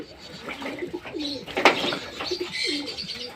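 Several soft, throaty coos repeat nearby in a loose rhythm, with a brief flutter of wings in the middle.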